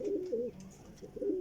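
Tedi Golden flying pigeons coo nearby in two soft rolling bursts separated by a brief pause, fairly quiet against a still background.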